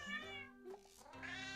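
A cat meows in the video game Cat President: a clear, close, tonal meow rising and falling, followed by a second shorter mew, alone without talk.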